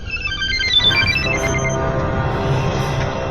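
A telephone rings in a Bengali-dubbed action film scene, a loud, continuous electronic ringtone melody that repeats without pause and carries no speech.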